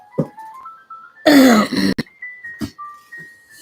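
Someone clears their throat once, a short rough rasp, among faint high tonal chimes and a few soft clicks.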